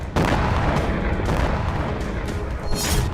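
Loud, continuous rumbling blasts and booms from wartime attacks, with repeated heavy impacts layered over a dense roar.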